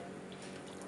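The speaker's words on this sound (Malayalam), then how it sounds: "ഗ്ലാസ്സിലിട്ട് ഒഴിക്കുക." Black tea strained and poured into a glass, a soft continuous liquid trickle heard close and faint for under a second.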